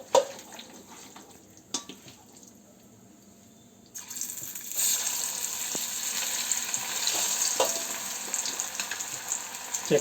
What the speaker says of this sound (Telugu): చికెన్ పకోడీ ఆయిల్ ఫ్రై చేసుకుందాం.